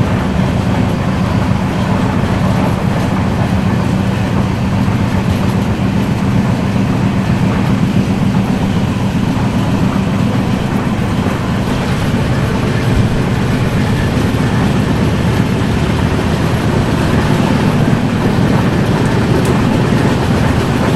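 A Bengaluru to Goa sleeper train runs at speed, a loud, unbroken rumble with a rhythmic clickety-clack of wheels on rails throughout, no talk.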